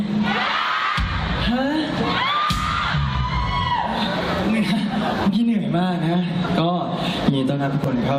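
A loud crowd screams and cheers continuously at a fan event, with whoops and shrieks rising over a steady roar, close and dense throughout.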